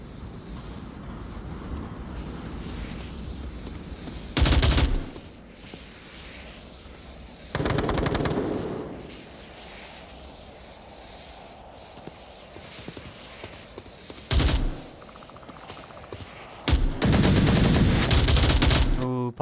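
Gunfire in a competitive VR shooter match, loud dense bursts of automatic fire in several separated volleys, close and harsh, with quieter ambient noise and faint voices between them.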